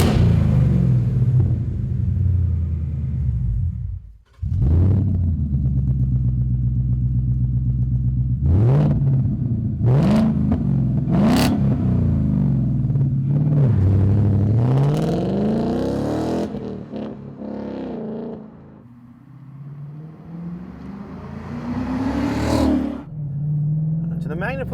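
A 2018 Mustang GT with a MagnaFlow competition quad-tip cat-back exhaust driving on the road, its V8 revving through several rising and falling pulls with a brief drop, then settling into a deep rumble, loud and close.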